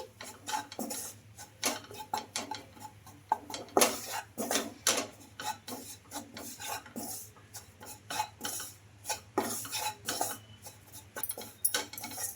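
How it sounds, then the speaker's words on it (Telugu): Gram flour being dry-fried in a pan, with a rhythmic run of metallic clinks and scrapes as a utensil stirs against the pan. Fairly quiet, with no other sounds alongside. "ఈ శనగపిండి కూడా వేసేసుకొని బాగా ఫ్రై చేసుకోవాలి"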